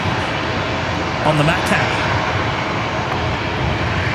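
Velocity 1106 at Brisbane Airport, bound for Newcastle at night, gives a steady broad engine roar that runs through the clip under people talking nearby.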